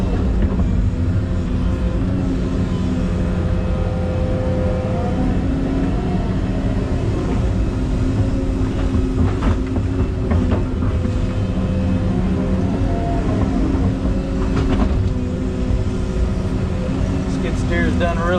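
A skid steer loader runs steadily while moving and patting down dirt, its engine droning loud and continuous throughout with some clanking, and a person talks over it.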